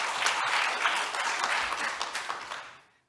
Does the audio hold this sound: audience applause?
yes